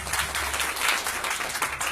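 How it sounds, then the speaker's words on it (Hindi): A large audience at a Maithili poetry recital in Malaysia bursts into dense, continuous clapping that stays fairly even throughout the short stretch. "एक बार जोरदार ताली बजा दी।"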